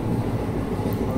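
Moving passenger train heard from inside a carriage among the sleeping berths, a steady low rumble and rattle of the wagon in motion, continuous and fairly loud with no speech.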